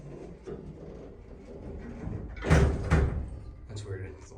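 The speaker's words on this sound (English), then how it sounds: "Door's a little questionable. Let's listen to that." An elevator door on a Dover hydraulic elevator rumbles and thuds, seeming to knock and rebound briefly, with a person speaking softly before and after.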